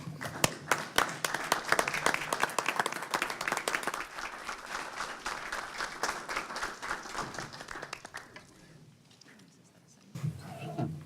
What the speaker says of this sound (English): you deserve a round of applause from all of us standing in